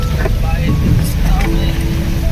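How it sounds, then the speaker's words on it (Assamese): Steady low engine rumble of a dumper boat moving on the Subansiri River, with wind noise and faint voices in the background. "আৰু নদীৰ ওপৰেদি আমি এতিয়া গৈ আছোঁ ডাম্পাৰত।"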